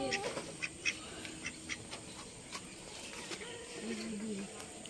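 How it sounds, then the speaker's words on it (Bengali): Ducks in a Bengali village household, a pair of one male and one female, give scattered quacks and calls at moderate distance against a steady outdoor background. "এখন হাঁস রয়েছে মাত্র 2টো"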